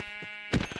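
A Minecraft sheep bleats as it is hit, giving a short, clear, close cry under a steady background hum.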